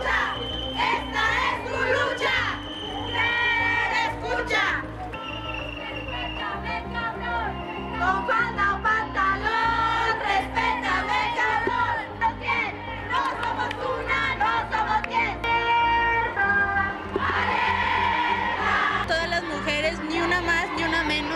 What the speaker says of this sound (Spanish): El multitudinario contingente partió de Ingeniería de la UAS hasta culminar en Plaza de Armas gritando diversas consignas